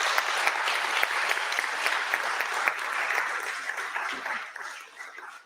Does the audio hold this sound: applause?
yes